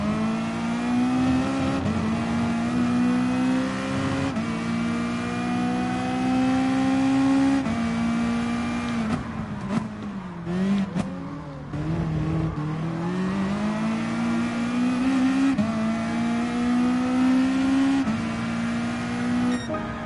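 A Nissan GT-R race car in the Gran Turismo Sport video game drones with a loud, steady engine note held at high revs, briefly dipping and wavering mid-clip before climbing back to a sustained whine, with no talking.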